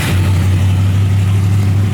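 A Chevrolet El Camino engine with a carburetor runs at a steady, fast idle, a loud, even rumble close by with no one speaking.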